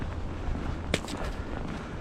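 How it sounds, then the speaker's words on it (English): Cold, steady wind blowing by a running winter creek edged with ice, with gusty microphone buffeting and a brief sharper gust, continuous and fairly loud throughout. "It's cold"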